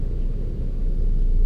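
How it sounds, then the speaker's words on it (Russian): A truck idles in a road traffic jam, giving a continuous deep, loud engine rumble from inside the cab that swells slightly toward the end. "Стою я на traffic jam."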